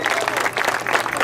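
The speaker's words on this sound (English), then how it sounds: "Give yourselves a big round of applause." Crowd at an outdoor campaign kickoff rally in El Sereno applauding steadily, a dense, continuous patter of clapping throughout the short burst.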